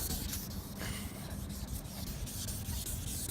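Faded carbon fiber is sanded by hand with sandpaper, a steady, close rubbing scrape of quick back-and-forth strokes, faint overall with no speech.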